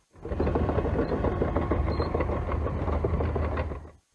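Bulldozers clear two-metre-deep snow on a village road in freezing cold, a steady loud mechanical engine drone with rattling and clanking that fades in and out, with no talk.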